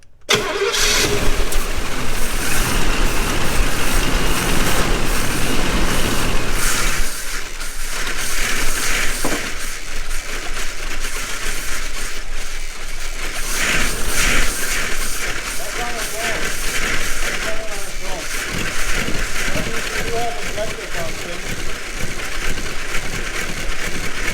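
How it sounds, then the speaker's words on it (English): An old car engine from an abandoned garage, once owned by Lawrence Welk, cranks and runs loud and close with the throttle gently feathered, roughly steady with some surging, while people talk over it. "try it one more time and just feather the throttle a tiny bit"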